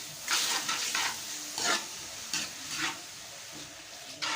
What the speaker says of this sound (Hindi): प्याज लाइट ब्राउन होने तक जो है इसको हम इस तरीके से चम्मच चलाते रहेंगे।